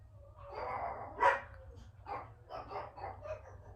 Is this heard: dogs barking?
yes